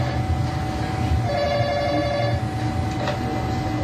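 A telephone rings indoors with one warbling ringtone burst, heard over a steady background hum, with no one speaking.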